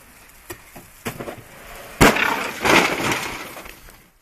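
A chunk of ice falling from the roof of an apartment building in winter, a few light knocks followed by a sharp loud crash and scattering, shattering debris that fades out.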